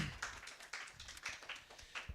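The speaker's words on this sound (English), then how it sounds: "A round of applause for Alex," Audience applause for a speaker at a panel session on reparations, a loose patter of claps from a modest crowd, fairly quiet and steady for a couple of seconds with no talk over it.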